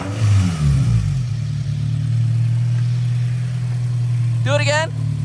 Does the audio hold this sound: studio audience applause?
no